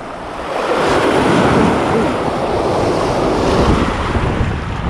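Large waves break and wash along a rocky shore near a bridge, a loud, broad roar that swells and holds steady, mixed with wind buffeting the microphone.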